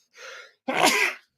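A single person sneezes: a short indrawn breath, a brief pause, then a sharp, loud sneeze burst close to the listener.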